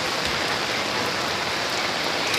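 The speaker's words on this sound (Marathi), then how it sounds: "खूप जबरदस्त पाऊस झाला चालू." Heavy rain pours down outdoors on a road, a dense, steady hiss of drops hitting surfaces, loud and constant with no pauses and no voices.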